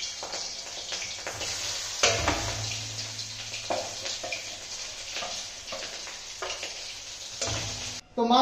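Pieces of fish fry in hot oil with a crackling sizzle, mixed with stirring and utensil scrapes in the pan, and a few clattering bumps along the way.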